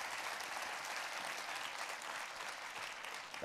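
Attendees at a university's annual address applaud a guest standing in the room, an even, moderately soft wash of many hands clapping that carries steadily and tapers slightly near the end.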